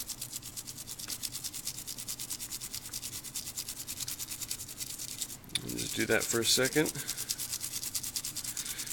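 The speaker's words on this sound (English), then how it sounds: "Just going to clean in here off the back side." A soft-bristle toothbrush dipped in 99.9% alcohol scrubs the charging port of a Motorola DROID RAZR XT912, giving a close, rapid, rhythmic scratchy rubbing that runs throughout, with a brief spoken remark partway through.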